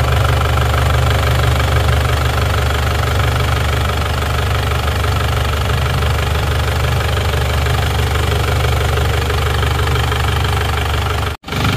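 An Isuzu Panther diesel engine idles after repair with a loud, steady rhythmic clatter close by, running evenly without a break until a brief dropout near the end.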